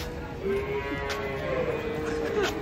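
Cattle moo at a market as sacrificial cows come off a truck, several low drawn-out calls rising and falling over a steady crowd murmur, fairly close.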